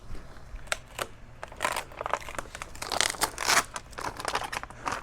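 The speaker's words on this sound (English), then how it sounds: "let's get this unwrapped a little bit further" Plastic packaging around Cybertruck running boards crinkles, crunches and tears in irregular bursts as it is pulled open by hand, close up, with no talking.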